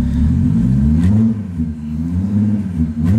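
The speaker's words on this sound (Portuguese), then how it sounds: "Dá uma acelerada pra você ver." A car engine revving as the driver presses the throttle, a loud, close, wavering roar that swells, dips and rises again.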